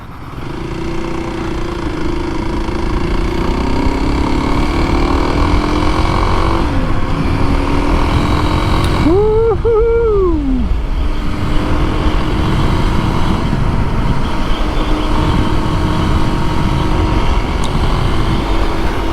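Kawasaki KLX 300 dirt bike cruising on a freeway, a loud sustained engine drone with wind roar, revs rising and dipping through gear changes around the middle.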